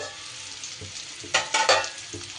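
Ivy gourd (kundri) being stirred in a pan on the gas stove, a soft steady frying sizzle with a few louder scraping stirs near the end, close and alone without talk.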